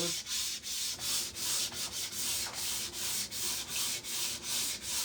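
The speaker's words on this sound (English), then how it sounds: "this is just a finer grit sandpaper. We're just going to go over it real quick with a little bit finer one" Fine-grit sandpaper rubbing quickly over a smooth surface being prepared for a shadow-lettered snowman design: steady back-and-forth strokes about twice a second, close and continuous, with no talking.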